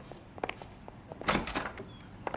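A door being opened in L.A. Noire, a few light clicks and handle rattles followed by a louder creaking swing and thump near the middle, then soft footstep-like taps, fairly close and quiet, with no talk.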